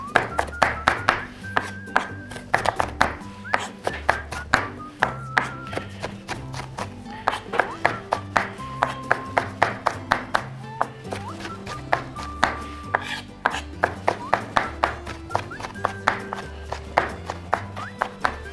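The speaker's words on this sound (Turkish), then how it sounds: "Ve şimdi tüm malzemeyi doğramaya başlıyorum." Rapid knife chopping on a cutting board, steady bursts of sharp taps continuing throughout, close and clear.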